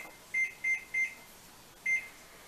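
A kitchen timer gives four short, clear electronic beeps nearby, three in quick succession and then a last one after a pause, in an otherwise quiet kitchen.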